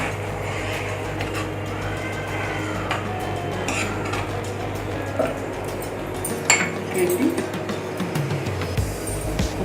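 Kaduka kheer mixture stirred slowly in a pot, with steady soft scraping and occasional metallic clinks of the spoon against the vessel, close and continuous through the stretch.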